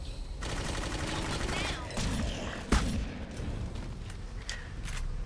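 Continuous video game gunfire in Clive Barker's Jericho, rapid automatic shots and a sharp boom midway over a dense, steady roar of combat, moderately loud and close.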